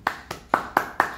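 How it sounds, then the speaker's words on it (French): Five sharp hand claps in a steady, even rhythm, close and fairly loud, with nothing else around them. "J'applaudis."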